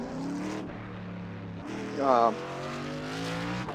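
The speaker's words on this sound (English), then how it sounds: "We're gonna get the car going here" Race car engine in the iRacing sim starting up and settling into a steady idle, a sustained harmonic drone with a short rising rev burst midway, fairly close and alone.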